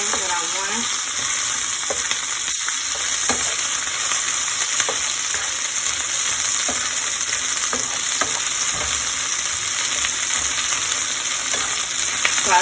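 Onions and sweet peppers sautéing in a pan on a stove over medium heat, a steady bright sizzle with faint scattered stirring taps across the whole stretch, with no speech.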